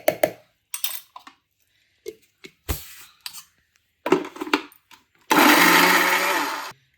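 An electric mixer grinder grinds soya vadai batter made with meal maker and chana dal, starting in several short, loud bursts with pauses between them and ending in one sustained whirring run of about a second and a half.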